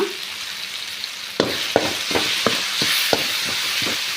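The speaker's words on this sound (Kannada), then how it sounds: "ನೋಡಿ ಟೊಮೆಟೊ ಸ್ವಲ್ಪ ಸಾಫ್ಟ್ ಆಗೋವರೆಗೂ ಈ ರೀತಿಯಾಗಿ ಫ್ರೈ ಮಾಡ್ಕೋಬೇಕು" Tomatoes fry with salt and turmeric in a pan for ridge gourd sambar, a steady close sizzle broken by a series of sharp scraping stirs at a regular rhythm, with no voices.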